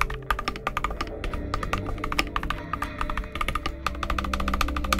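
Rapid clacking of a custom mechanical keyboard, close and crisp, with a steady stream of fast keystrokes throughout.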